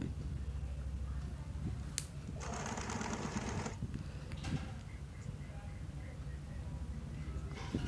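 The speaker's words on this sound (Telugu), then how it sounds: "ఈ బోర్డర్లో కూడా నేను సైడ్ సన్నగా మడత పెట్టి కుట్టేస్తున్నాను" A sewing machine stitches a folded border onto the side slits of a kurti, a steady close mechanical whir with a brief faster burst, continuous and fairly loud.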